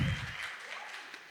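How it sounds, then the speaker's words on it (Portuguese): An audience applauds at a leadership mini-talk by Kadu Molina: a dense burst of clapping that starts loud and thins into a softer, steady patter. "Palmas para Cadu Molina."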